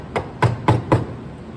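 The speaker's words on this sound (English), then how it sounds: "It's much more accurate to cut it with a chisel." Four sharp, evenly spaced mallet-struck chisel chops into waste wood while hand-cutting a mortise for a flush bolt, close and fairly loud, with quiet gaps between blows.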